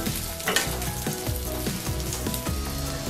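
Cauliflower is stir-fried in a pan for a mixed vegetable dish, with a loud, close, constant sizzle broken by regular rhythmic spatula scrapes about twice a second.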